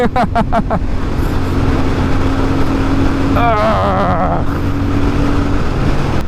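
A Royal Enfield Super Meteor 650 motorcycle cruises in sixth gear, a steady engine drone under constant wind rush from start to finish, with a rider's voice heard briefly partway through.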